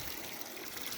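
Cold tap water pouring into a clear-ice mold set inside a cooler, a quiet, continuous trickling stream heard up close with nothing else over it.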